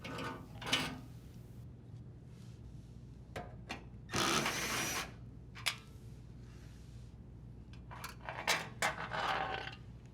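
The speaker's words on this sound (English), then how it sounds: "Using the drill driver, unthread the 2 screws securing the toe kick and set it aside." Drill driver backing out two toe kick screws on a dishwasher, heard as short bursts of whirring and ratcheting with clicks and a longer run in the middle, close and fairly loud, no talk.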